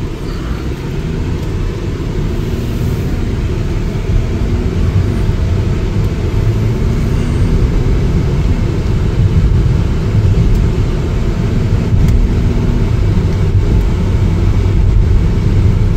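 A 2016 Mercedes-Benz GLE350 4matic SUV on a test drive, heard from inside as a steady, loud low engine hum and road rumble that stays even throughout.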